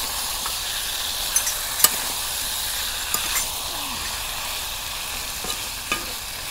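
Meat dry-fries in a kadai-style wok as it is stirred: a continuous soft sizzle and hiss, broken by occasional short scrapes and clinks of the spatula, with no voices.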